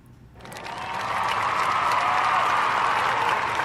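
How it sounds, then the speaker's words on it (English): A rousing round of applause from a studio audience on a fantasy football talk show, starting after a brief lull and swelling into steady, dense clapping that holds loud throughout with no voices over it. "We'll give you a rousing round of applause real quick before we get into the body of the show."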